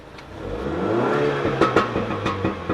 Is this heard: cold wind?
no